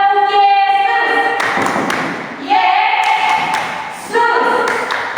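Children at an HKBP Sunday school in Bengkulu clap their hands in a rhythmic clap chant, with sharp close claps and thumps mixed into loud sung and chanted young voices.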